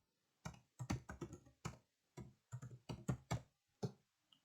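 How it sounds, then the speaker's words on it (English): Keys on a computer keyboard are pressed into a form field in a quiet room, each stroke a distinct close clack in an uneven run of about a dozen with short gaps. "I'm going to type in some stuff."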